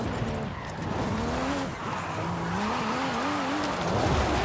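A Formula Drift car in Forza Horizon 5 slides sideways, its engine note wavering up and down as the tires squeal under a continuous skidding roar, loud and close throughout.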